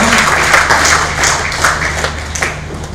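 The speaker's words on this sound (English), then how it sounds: "Please, a round of applause, Prof." Clapping from an audience at a formal ceremony, close and loud, with individual hand claps standing out over a steady crowd patter and a low background hum.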